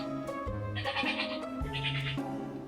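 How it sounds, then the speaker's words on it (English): A goat bleats twice in quick succession, each call a wavering, nasal cry, close and clear with no talking. "That's the goat."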